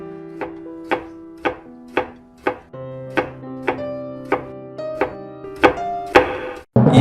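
Knife chopping steadily on a cutting board in a home kitchen, about a dozen sharp, evenly spaced thunks ringing out close and loud with no talk, the strokes growing harder toward the end.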